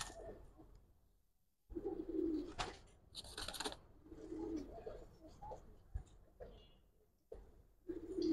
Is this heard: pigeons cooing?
yes